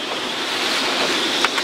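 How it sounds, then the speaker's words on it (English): Rough sea with high waves and gale-force wind around a sailing boat in the East Siberian Sea, a loud continuous roar of wind and rushing water with a few brief splashes. "jumping over 4 meters high waves"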